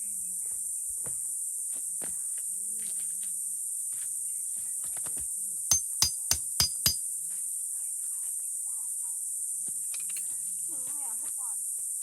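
Crickets chirp at night on a farm in Saraburi, a continuous shrill drone running through the whole stretch, with a brief burst of sharp clicks midway and faint low sounds beneath.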